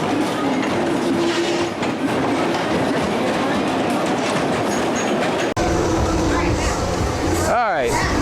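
A front-seat ride on Hurler, a classic wooden roller coaster at Carowinds, rattles and roars loudly and continuously, with the ride noise filling the whole stretch and brief vocal sounds near the end.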